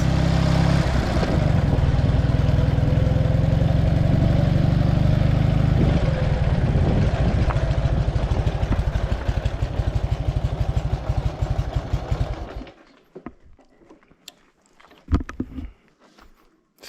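A Minsk 125 motorcycle engine runs with a steady, throbbing two-stroke note close by for about twelve seconds, then cuts out, leaving quiet scattered knocks and movement.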